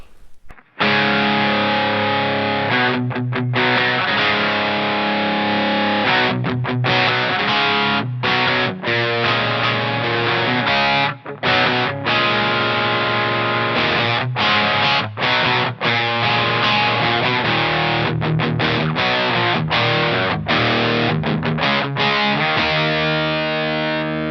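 A heavily distorted electric guitar with hum-canceling split-coil wiring plays sustained chords with brief choppy pauses, loud and close, with no voices.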